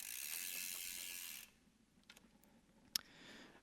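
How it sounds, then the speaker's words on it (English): Bicycle freewheel ratcheting as the pedals turn, a fast continuous buzzing click up close that stops abruptly, followed by a few faint mechanical clicks and one sharp tick. "So this is how quickly I'm turning the pedals right now."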